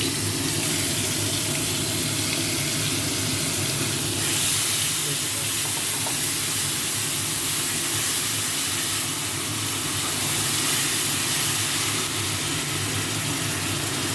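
Onion paste with tomato and green chillies sizzling in hot oil for a Bengali koi fish curry, a loud, steady hiss of frying that holds at close range throughout with little variation.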